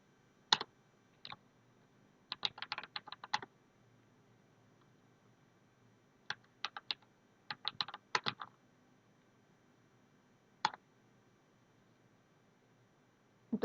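Commands are typed on a computer keyboard while configuring network devices, quiet isolated bursts of rapid key clicks separated by pauses, close and alone.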